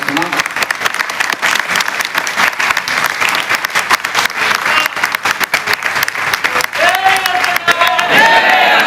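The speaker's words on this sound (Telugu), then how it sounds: "అందరు చప్పట్లతో స్వాగతించాల్సిందిగా మనం చేస్తున్నాం" Dense, loud applause from a gathered audience at a meeting, continuous and steady, with a voice and some crowd noise emerging near the end.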